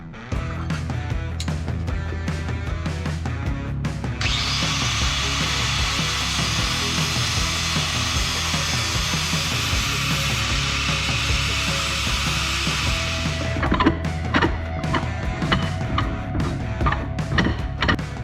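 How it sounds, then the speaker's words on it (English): A grinder cuts down leftover metal edges on a vehicle suspension link so the joint can slide out, a loud steady high whine running for several seconds amid scattered clanks and shop noise. "So I'm gonna have to take my grinder and grind off these little edges that are still in here so that the joint can slide out."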